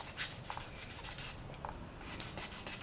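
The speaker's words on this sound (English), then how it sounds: "So the edges need quite a bit of a sand compared to usual." Polymer clay edges are sanded by hand with fine sandpaper, running from 400 up to 1200 grit, giving a steady run of close, soft rubbing strokes in repeated bursts with no talk.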